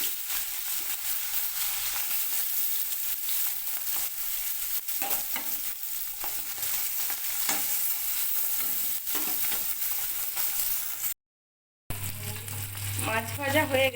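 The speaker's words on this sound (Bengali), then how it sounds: "তেল গরম হয়ে গেছে, এবার মাছগুলো দিয়ে দেব।" Fish, likely bata, frying in hot oil in a wok over a gas flame, a steady dense sizzle with occasional crackles running throughout, briefly cutting out, then returning alongside faint background sounds.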